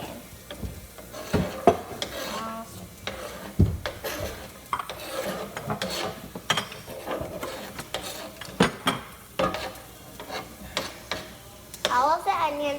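Diced onions tumble into a pan while cooking chili, scraping and clattering against the metal with a light sizzle and stirring noises, irregular bursts close by, with a voice talking throughout.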